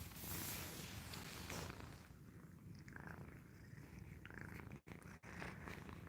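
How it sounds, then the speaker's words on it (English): A rescue cat purrs steadily and close up, a continuous low rumbling purr that carries alone for about six seconds with only brief interruptions near the end. "the main one you're hearing purring right now"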